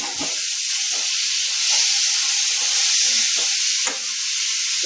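Tomato and kasuri methi fry in oily masala for an aloo gobhi matar sabzi, giving a steady, fairly loud sizzling hiss with soft stirring scrapes throughout.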